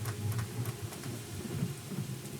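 Steady rain hisses and patters in the Rain Code video game while low thunder rolls and rumbles beneath it, continuous and fairly close throughout.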